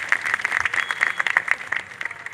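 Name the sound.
audience applause at statue unveiling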